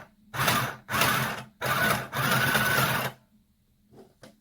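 Mini sewing machine stitching garland fabric, three loud bursts of fast mechanical whirring roughly half a second to a second and a half long with short pauses, then quiet with a couple of faint clicks.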